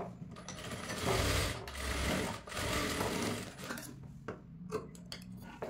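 A sewing machine stitches a cloth frock, its needle mechanism running in bursts of steady mechanical whirring and rattling, close and moderately loud, with brief pauses between runs.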